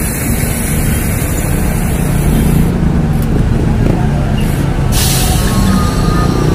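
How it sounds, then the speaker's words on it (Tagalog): Dense road traffic with many vehicles on a long ride from Manila to General Trias, Cavite: loud, continuous engine and road roar with a hiss of air brakes partway through, close and busy. "daming sasakyan"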